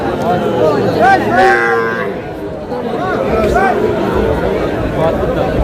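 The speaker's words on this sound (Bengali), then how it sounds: "ষাঁড় বাচ্চা।" Small bull calves at a rural cattle market in Madaripur, mooing loudly and repeatedly amid a busy crowd of people talking and bargaining nearby.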